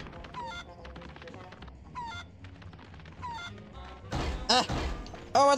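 A game chicken in Ed, Edd n Eddy: The Mis-Edventures gives repeated short squawking calls amid busy in-game sounds, ending in a louder burst of crashing, clattering noise.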